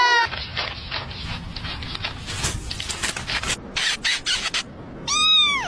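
Cat meowing, with a rising and falling meow at the start and another at the end, between scratchy rubbing and short bursts of noise.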